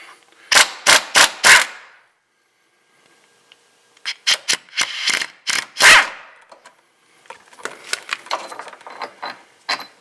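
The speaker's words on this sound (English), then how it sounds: "impact tools are the way to go with this job" An impact wrench rattles in short, loud bursts on an 18mm sway bar bolt under a 2003 Buick Century, with quiet gaps between them and softer clatter near the end.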